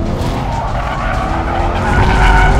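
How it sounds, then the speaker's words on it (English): A 2020 Corvette C8 Z51 slides around a track in second gear, its tires skidding and squealing loudly over a growling engine in one continuous close burst, no voices. "Thomas is sliding that Corvette around like he's just discovered that he can do it in that"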